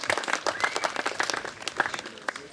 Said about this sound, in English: What were they clapping for?